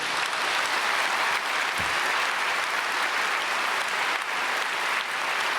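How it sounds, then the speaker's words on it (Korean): A large congregation at a Korean church dawn prayer service gives a loud, continuous round of applause, many hands clapping together in a steady, dense roar that fills the hall. "박수 한번 해주세요"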